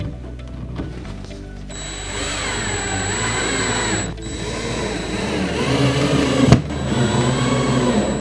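A power drill whirs in sustained runs, driving 1-inch screws into the top of a pantry cabinet, with a brief pause between bursts and a sharp knock near the end, close and fairly loud.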